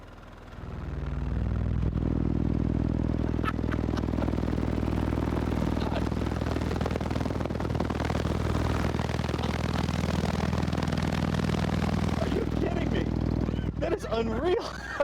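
A truck's car audio system cranked to full volume on a 20 hertz test tone, a steady, massive low drone with clattering, rattling panels that holds for many seconds before cutting off.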